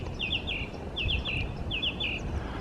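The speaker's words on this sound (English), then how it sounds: "That sounds like something bigger than a robin." A bird larger than a robin calls in three quick bursts of two or three bright chirps each, evenly spaced at moderate distance above steady low outdoor rumble.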